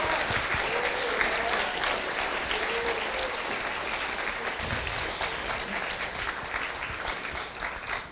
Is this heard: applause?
yes